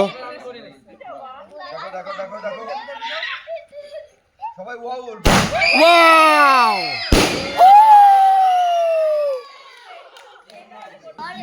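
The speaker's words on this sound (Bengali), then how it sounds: "আতসবাজি ফুটাবো তো আমরা সেই কাজটা এখন শুরু করছি" Fireworks at a wedding celebration go off in two sharp bangs, each followed by loud whistling tones, while people chatter and laugh nearby.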